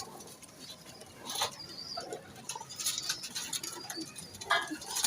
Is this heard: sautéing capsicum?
no